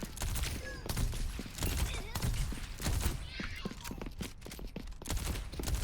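Steady, loud clicking bursts of weapon fire from the video game Overwatch 2 run throughout, close and rhythmic, with someone talking over them.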